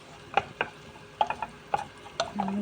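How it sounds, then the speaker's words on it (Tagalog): Onions sauté in a pan, with a faint background sizzle under several sharp utensil taps and scrapes against the pan from stirring. "Inuna ko muna yung sibuyas kasi matagal siyang maluto kaysa sa bawang."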